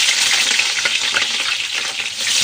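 Eggplant sizzles and crackles steadily in hot cooking oil, a dense, continuous frying hiss held at an even, fairly loud level throughout with no voices.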